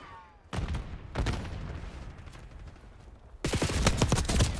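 Bursts of rapid automatic gunfire from a powerful weapon in a shooter game, two short volleys and then a longer sustained burst, loud and close with rattling echoes between them.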